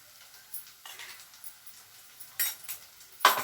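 Plantain fry with sesame powder being stirred in a pan, giving soft scraping and clinking of a spoon against the pan in a few separate strokes, with louder scrapes near the end and no talking.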